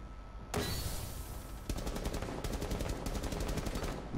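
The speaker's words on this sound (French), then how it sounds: "je tire un peu dans le vide" Rapid automatic gunfire from Rainbow Six Siege: loud overlapping bursts of shots start after a quiet opening, with a distinct fast-repeating volley near the end. No talking.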